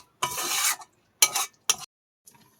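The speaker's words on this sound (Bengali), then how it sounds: "বন্ধুরা, কড়া গরম হয়ে গেছে, তেল দিয়ে দিয়েছি।" Oil heating in a hot wok gives three separate bursts of hissing sizzle, the first long and loud and the next two short, followed by a faint settling crackle, with no talking.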